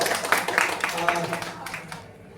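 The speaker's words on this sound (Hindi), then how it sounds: "एक बार इसके लिए जोरदार ताली" Loud clapping from an audience at a dance camp event honouring a newly crowned Miss Bihar, brisk and dense at first, then thinning and fading toward the end.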